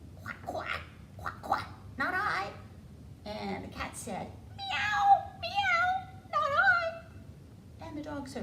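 A voice imitates a cat, drawing out several sing-song meows in a row, with brief storytelling speech woven between them.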